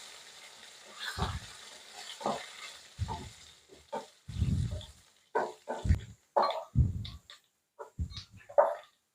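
Coconut pieces and curry leaves fry in hot oil for a Kerala-style beef roast, giving short, close bursts of sizzling and stirring that come and go in an uneven rhythm with quiet gaps between.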